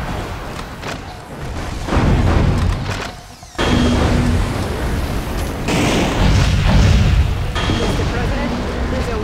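Heavy booms and blasts from gunfire in Metal Wolf Chaos XD, a mech action game, come loud and close in dense bursts with a brief dip midway; a voice talks over parts of it.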